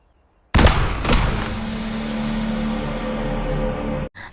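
Two loud gunshots from the film The Purge, close and sharp, one right after the other, followed by a long ringing rumble that fades slowly.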